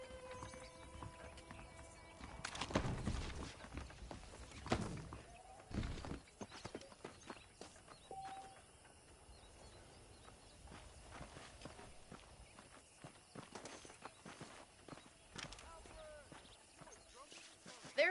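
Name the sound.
horse hooves clip-clopping while riding, Red Dead Redemption video game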